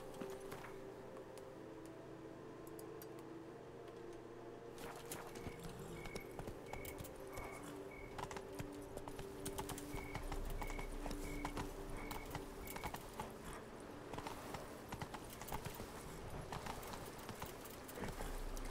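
Roach, the horse in The Witcher 3: Wild Hunt, gallops with a steady, quick clip-clop of hooves that stays fairly faint under the game's ambient sound and music.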